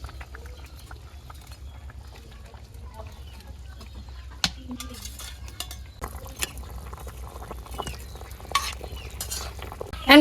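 Rohu fish simmering in a village-style curry, a soft bubbling sizzle under a low hum, punctuated by sharp clinks and scrapes of a spoon stirring, close and intermittent, with a rooster faintly audible.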